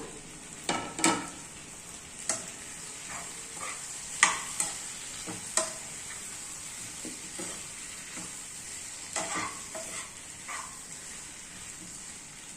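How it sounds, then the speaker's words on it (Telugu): Taro pieces go into a pan of frying ginger-garlic paste with tomato, a steady soft sizzle broken by scattered clanks and scrapes of a spoon stirring. "అల్లం వెల్లుల్లి పేస్ట్ ఫ్రై అయిపోయిందండి ఇప్పుడు చామదుంపలు వేస్తున్నాను"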